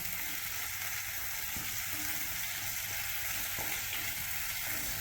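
Chopped onion fries in hot coconut oil, a steady, dense sizzle that holds evenly throughout without anyone speaking.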